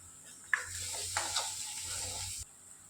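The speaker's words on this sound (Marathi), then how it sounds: "मिरची, कोथिंबीरची पेस्ट घालणार आहे आणि तिलाही जरा व्यवस्थित चांगलं परतून घ्यायचं" Green chili and coriander paste sautéing in a pan, a steady close sizzle with a few stirring scrapes and clicks, then cutting off abruptly.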